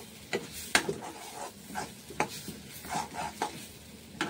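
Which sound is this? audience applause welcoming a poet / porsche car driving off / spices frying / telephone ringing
spices frying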